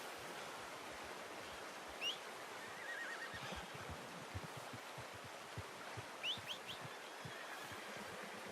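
A horse in Red Dead Redemption 2 gives faint, short whinnies twice, once early and once late, over a soft outdoor ambience of running water and light hoof sounds.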